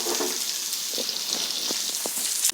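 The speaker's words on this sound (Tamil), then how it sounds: "200 கிராம் சின்ன வெங்காயம் இதை வெட்டி வச்சுக்கோங்க. இதை போட்டு வதக்கிடலாம்" Chopped shallots sauté in a pan of hot oil for a village-style mutton kuzhambu, giving a steady close hiss and crackle with a few soft clicks of stirring.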